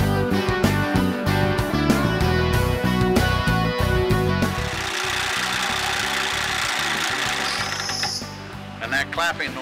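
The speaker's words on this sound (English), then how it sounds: "that clapping noise you're hearing is nothing but the cams rolling across the rollers" Loud, fast mechanical clapping and rattling from a rotary swaging machine, its cams rolling across rollers, continuous and dense, with a whine and hiss rising near the end.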